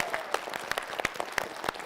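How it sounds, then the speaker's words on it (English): An audience claps in a brief, moderately dense burst of applause, with individual claps audible. "Let's give it a round of applause"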